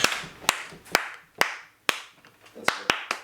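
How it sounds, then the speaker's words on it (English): A small group of people clapping their hands in separate, sharp, irregular claps, some landing together, spaced about half a second apart with short room echo. "Can you guys clap again?"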